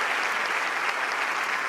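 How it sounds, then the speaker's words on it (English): A crowd at a youth blessing festival gives a warm, steady round of applause for Mother, dense and even throughout the brief moment, with no talk over it. "Everyone, let us again give our mother a warm round of applause."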